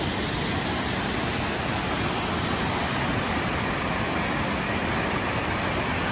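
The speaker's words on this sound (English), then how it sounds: "Look at the backdrop of this waterfall too." Waterfall in Sequoia and Kings Canyon National Parks, a steady, dense roar of falling water with no breaks or voices, loud and constant throughout.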